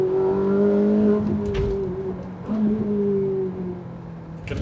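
A Ferrari 458 Italia engine heard from inside while driving, a strong tonal hum that holds, drops off as the throttle lifts, then swells again in a second rise before fading, with faint cabin noise and no talk.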